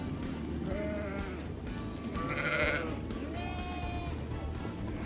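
Several sheep bleat on a Turkish farm where lambs of about four months are kept, with wavering calls overlapping one another against steady low background noise at moderate loudness, near and distinct.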